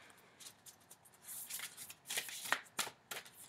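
Large oracle cards from a Tao Oracle deck being shuffled by hand, a run of crisp riffling and flapping bursts, close and fairly quiet, with no talking.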